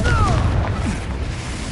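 The Confringo blasting spell in Hogwarts Legacy on PS4, a loud, booming explosion with a heavy low rumble and a whooshing sweep at the start, fading slowly.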